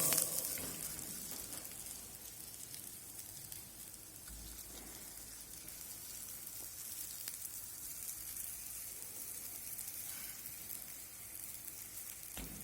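Galouti kebabs shallow frying in oil in a pan make a steady, soft, continuous sizzle like fine rain, faint and even throughout with no talk.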